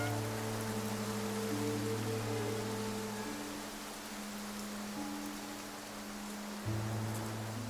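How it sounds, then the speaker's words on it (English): Soft, steady rain falls in the video game Infinity Nikki, a faint hiss of drops sitting beneath sustained low musical tones that shift and hold throughout. "Nikki, it looks like it's going to rain."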